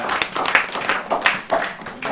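Audience applause at a speedrunning charity event, a short burst of scattered hand clapping from a modest crowd, fairly close and steady.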